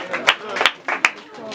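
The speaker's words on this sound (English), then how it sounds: "Let's give him a round of applause." A small quiz-show audience gives a contestant a brief round of clapping: a handful of distinct, close hand claps in an uneven rhythm over about a second and a half, with no crowd roar behind them.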